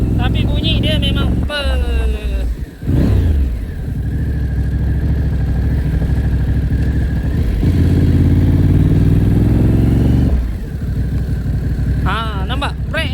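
A Moto Morini X-Cape 1200 motorcycle being ridden through a village area, its loud, close engine droning steadily before revving up through a sustained rising acceleration and then dropping back.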